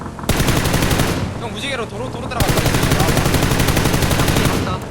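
Rapid automatic gunfire from the battle royale game PUBG, with M4 and M16 rifles, rattles in two long loud bursts separated by a short pause, while players talk over it.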